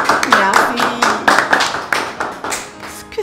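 Scattered hand claps from a small audience at a birthday gathering sound close and moderately loud, mixed with voices talking over them throughout.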